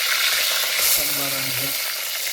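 Oil heating in a pan outdoors on a farm for mutton with spinach, giving a continuous loud frying hiss with a brief tonal hum partway through.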